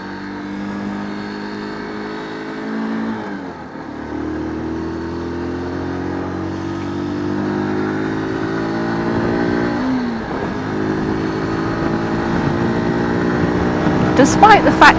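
A 125cc learner motorcycle on UK roads, its engine droning steadily and rising in pitch as it revs through gears while riding, with wind noise throughout and a few sharper bursts near the end.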